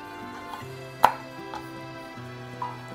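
A kitchen knife chopping through broccoli rabe stems on a cutting board, a few distinct cuts spaced about a second apart, one sharp and louder, with faint background hum.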